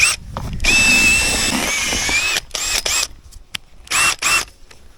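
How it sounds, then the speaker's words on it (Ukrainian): An electric mixer stirring fishing groundbait made with peas, a close, loud whirring motor in bursts of varying length, with stops and restarts toward the end. "Це зараз зіб'ємо міксером."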